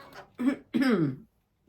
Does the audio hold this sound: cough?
yes